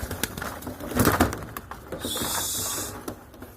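Male and female Pakistani high flyer pigeons coo softly up close amid scattered rustling and light taps, with a brief airy hiss in the middle.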